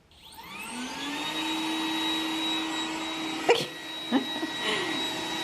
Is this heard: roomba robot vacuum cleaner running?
yes